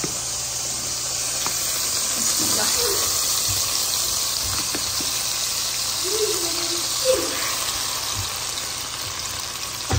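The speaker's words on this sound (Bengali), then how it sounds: "এইভাবে আমি দুইটা দুইটা করে ভেজে নিব" Food frying two pieces at a time in melted butter gives a steady, fairly loud sizzle throughout, with a few faint clinks and a quiet voice in the background.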